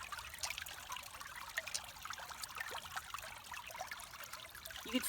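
Water trickles faintly through a channel dug into compact clay, silt and rock soil, a soft continuous dribble with small splashes and no talking.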